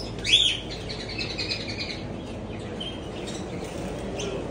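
A bright bird chirp rings out near the start in an American pet shop, followed by softer scattered tweets and calls from many colorful birds over a quiet indoor background.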